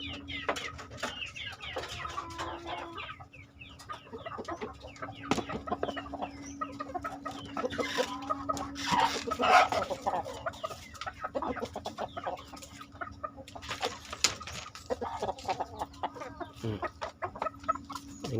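Hens with chicks and brooding hens cluck steadily at feeding time, with a rooster among them competing for food; continuous overlapping clucks and chatter from several birds, fairly close, with no talk.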